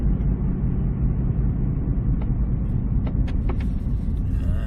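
A car rolls up to a house at low speed, its steady engine rumble and road noise continuous and fairly loud throughout, with a few faint higher clicks or squeaks near the end.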